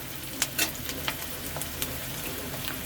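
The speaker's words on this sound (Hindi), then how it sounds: "थोड़ा इसे ब्राउन करेंगे।" Onions and turmeric fry and brown in a pan over cumin for pav bhaji, a soft steady sizzle broken by a few sharp crackles and pops.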